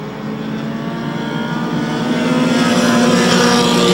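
Dirt modified race cars roar around the track at Airborne Speedway in Plattsburgh, New York, a steady loud engine drone that builds slightly as the pack runs, with no talk over it.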